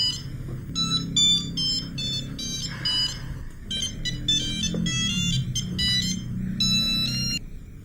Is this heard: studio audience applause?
no